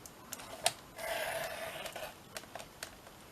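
Paper is cut down to a marked line, with a quiet, close, roughly one-second rasping cut set among a few faint sharp clicks and taps.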